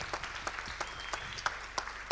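Sparse applause from a small audience at a startup pitching forum in Romania, a handful of separate claps at irregular intervals, fairly faint, without talk.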